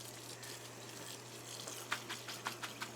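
Cold tap water runs over cooked gluten-free pasta in a sink, a quiet steady rush with soft splashes and drips growing more noticeable toward the end.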